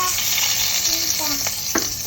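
Hot tempering poured into a beef and peas curry, giving a loud, steady sizzle and bubbling with a few clinks and scrapes near the end, close up and without talk.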